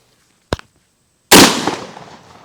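A Benelli M4 shotgun fires a double-aught buckshot shell at a target about 20 feet away, one sharp, loud blast with a ringing decay, preceded by a brief click.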